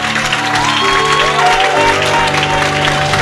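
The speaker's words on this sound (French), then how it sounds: "louons le Seigneur par nos acclamations" A church congregation applauds and cheers in praise during a service, a dense, steady wash of clapping blended with sustained music or singing.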